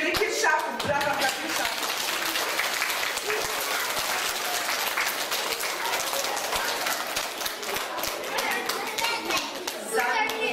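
School assembly audience clapping for first-grade pupils at their pledge ceremony, a lively, dense applause of many hands kept up steadily for about ten seconds, with children's voices faintly mixed in.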